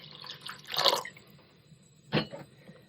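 Water is topped up into a pot of pre-mordanted fabric soaking in chrysanthemum and marigold dye: one brief splashing pour, then a short second splash a moment later, close by with no talk.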